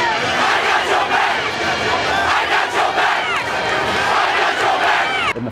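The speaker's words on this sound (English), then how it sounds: "We just started chanting like, we got your back" Ohio University Marching 110 band members chant "I got your back" in unison at an away football game at Marshall, a loud, sustained mass of shouting voices over dense crowd noise.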